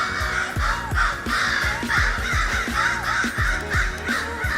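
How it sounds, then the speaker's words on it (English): Several crows caw in repeated harsh bursts around an abandoned housing project, loud and fairly close, with calls overlapping in an irregular rhythm and no voices. "Lots of birds. Cardinals and crows."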